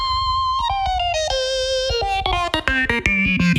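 An aggressive EDM drop lead synth, pushed through external effects, plays a gliding, stepping phrase with a gritty, bright distorted tone over a low rumbling bed, loud and up front with no voices.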